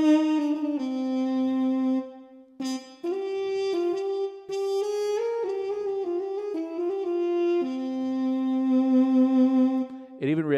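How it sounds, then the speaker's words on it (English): Muted trumpet patch on a Roland Jupiter-80 synthesizer plays a melodic phrase of sustained and stepping notes, bright and buzzy, alone and close with no talking. "Check out this muted trumpet."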